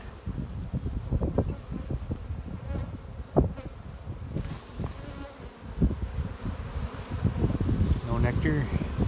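Honeybees buzzing close around an open hive, a continuous uneven hum with wind noise and handling rustles, and people talking quietly over it.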